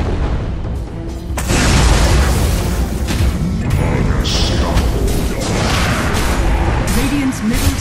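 Combat in the Dota 2 video game as a tower comes under attack: a steady wash of booming impacts and clashing effects that swells after the first second and stays dense and loud.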